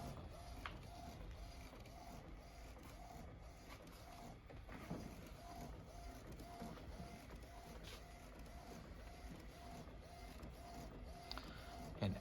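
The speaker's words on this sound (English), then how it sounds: "And then you should start to hear it print." A printer prints a page with a soft, steady, repeating whir as the print head shuttles back and forth, joined by occasional faint clicks and knocks, close and quiet.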